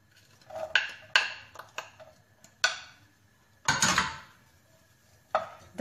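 A metal frying pan is picked up and set down with a few sharp, irregular clanks and scrapes, and a brief softer rush as vegetable oil goes in, heard close up in a home kitchen.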